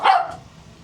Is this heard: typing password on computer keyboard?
no